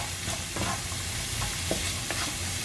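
Celery being stirred as it sautés in a pan for turkey stuffing, a steady low sizzle with soft, irregular scrapes and clicks of the utensil throughout, close and moderately quiet, with no talking.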